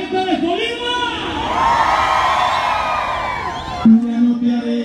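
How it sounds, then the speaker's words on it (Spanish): A large outdoor crowd at a banda concert on the fairground esplanade of the Feria de Todos los Santos in Colima roars, shouts and cheers loudly and continuously, with whoops and a sustained collective yell rising and falling. "Y ese grito de toda la gente de Colima."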